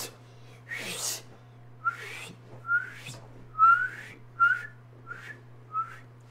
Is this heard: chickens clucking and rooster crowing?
no